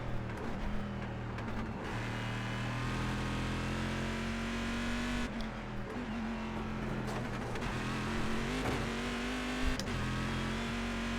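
Chevrolet Corvette C6.R GT1 in a racing video game: a loud, steady engine drone held at high revs, with brief dips at gear shifts and no speech over it.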